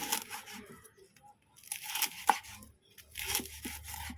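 Crisp crunching as a knife chops crispy fried pork belly into bite-size pieces for stir-fried holy basil, several uneven cuts close up, with quiet pauses between bursts.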